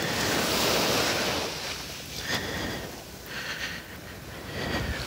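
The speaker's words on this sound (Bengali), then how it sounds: "বাতাস না হওয়ার পরেও এরকম যে ঢেউ আসছে বা লাগতেছে" Ocean waves on a calm, nearly windless day at Coney Island beach, a continuous roar of surf that swells and eases, with wind buffeting the microphone.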